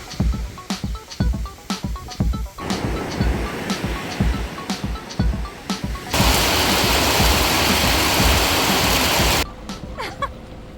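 Rain falls at a beach resort in Khao Lak, Thailand, as a dense broadband hiss that swells to a heavy, steady downpour midway. Scattered taps and clicks come earlier, and no one speaks.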